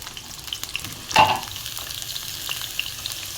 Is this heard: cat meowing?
no